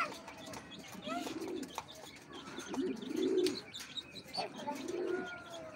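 Pigeons in a breeder's loft give soft, repeated throaty coos in several short bursts, with light chirps and rustling around them and no talking.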